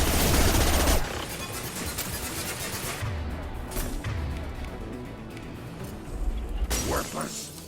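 Gunfire crackles in Mass Effect Legendary Edition, with a loud burst of shots at the start and another near the end, sharp and close over a constant background of game combat noise.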